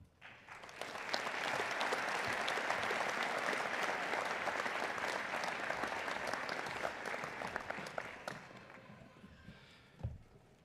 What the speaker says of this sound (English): there was some pretty good applause by individual families